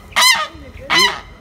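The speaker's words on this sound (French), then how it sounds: "Alors, c'est une oie de Toulouse." A Toulouse goose honks twice, loud and close, each call a harsh nasal blast with a short gap between them and no other sounds around.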